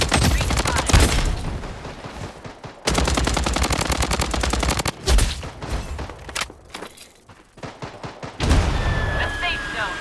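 Gunfire in the video game Blood Strike: loud, dense bursts of automatic fire with rapid rattling shots and booming impacts, broken by short pauses, and game voice callouts mixed in.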